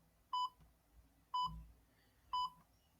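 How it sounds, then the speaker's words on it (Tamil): A digital countdown timer beeps three times at even one-second intervals, each short electronic tone clear and alone against quiet background hiss. "இதில் மறுபடியும் டைமர் ஸ்டார்ட் ஆகுது."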